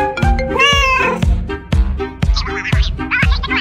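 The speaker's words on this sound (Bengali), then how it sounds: "এখন বিড়ালটা তার বন্ধুকে কল দিছে তার কাছে আসার জন্য।" A cat meows repeatedly and loudly up close, a series of drawn-out, tonal cries with sharp onsets, some rising and wavering, coming in quick succession.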